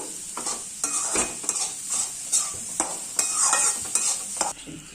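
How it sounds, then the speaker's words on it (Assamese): Grated pumpkin sizzles in ghee in a hot pan while a spoon repeatedly stirs and scrapes, producing rhythmic scraping bursts over a steady frying hiss. "এইখিনি অলপ সময় ভাজি লম"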